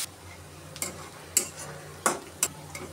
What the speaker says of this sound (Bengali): এখন আমি পেঁয়াজ আর কাঁচামরিচটা একটু হালকা ভাজা ভাজা করে নেব।